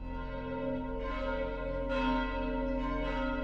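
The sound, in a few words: church bells ringing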